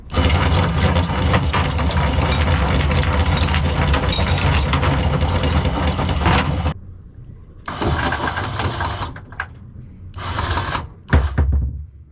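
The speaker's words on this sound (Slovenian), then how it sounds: "Tako sidro je dvigeno." An electric anchor windlass on a sailboat hauling up the anchor while at anchor near Njivice and Malinska, a loud continuous mechanical whir with engine running beneath, then stopping and restarting in short bursts.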